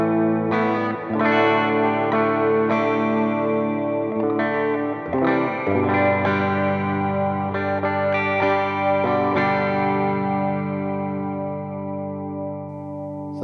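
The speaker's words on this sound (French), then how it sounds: "je vais aller choisir la reverb qui est un peu sympathique, la Sweet Space" Valeton GP-5 guitar effects unit with its Sweet Space reverb engaged, a guitar playing sustained chords and notes whose tails bloom into a lush, wide wash of reverb with chorus-like shimmer, loud and steady throughout with no talking.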